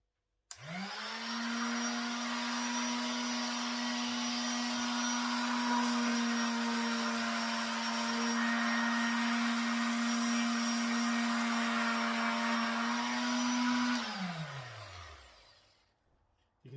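MacAllister electric sander running on a workface: a steady motor whine that starts abruptly, holds level for about thirteen seconds, then winds down as it switches off, loud and close with no talking.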